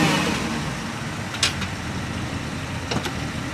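A Porsche engine idles steadily nearby, a continuous low rumble with a couple of brief rises.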